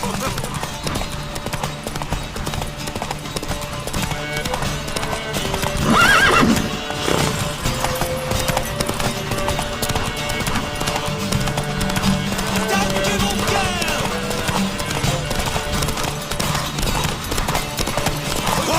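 Rapid hoofbeats of a galloping horse in The Witcher 3: Wild Hunt gameplay, with an occasional whinny, steady over a continuous music and effects bed, with a brief louder burst midway.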